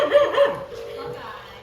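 Dogs yip and bark in short bursts close by on a rainy day, with a person talking over them.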